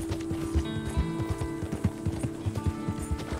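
A horse's hooves clip-clop at a steady trot while riding in Red Dead Redemption 2, even rhythmic thuds over a constant game ambience and hum, with no talking.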